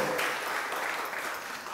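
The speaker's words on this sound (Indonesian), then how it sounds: "Kita berikan tepuk tangan yang meriah buat beliau." An audience at a PDI Perjuangan party law school opening claps steadily in a dense, even wash of applause with no pauses.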